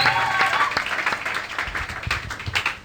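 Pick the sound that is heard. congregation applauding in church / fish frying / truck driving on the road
congregation applauding in church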